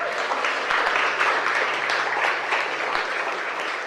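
Congregation applause at a church service, a dense, steady wash of clapping held at an even level throughout, with no talk heard over it.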